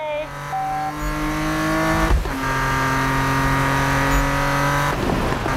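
A BMW M3 GTR race car engine drones loudly in the Need for Speed 2015 video game, holding a steady high pitch with a sharp shift around the middle and another near the end, with no voices.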